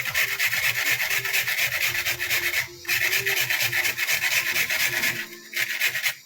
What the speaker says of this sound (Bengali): এরপরে বিস্কিটটাকেও আমি এভাবে কুড়িয়ে নেব। এই যে গুঁড়ো হয়ে যাচ্ছে